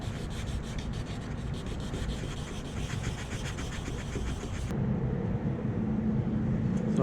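Wet sandpaper scrubbed over a BMW 118i plastic bumper in steady, rhythmic back-and-forth strokes, close and fairly loud, with the rasping stopping partway through and a duller low hum continuing afterward.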